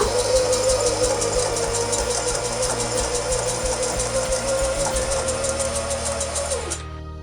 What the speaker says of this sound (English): I'm just going to use the green thread and the zigzag stitch and just stitch along there